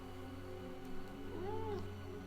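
A pet cat gives a single drawn-out meow that rises and falls, faint and close over a steady background hum.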